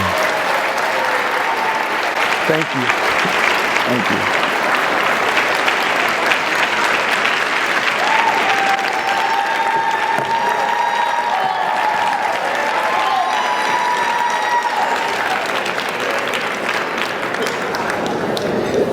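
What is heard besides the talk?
audience applause for a speaker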